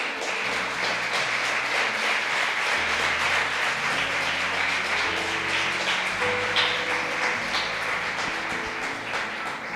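A church congregation at a Sunday service applauds in a sustained, dense wash of clapping, loud and continuous for about ten seconds, with held musical tones sounding underneath.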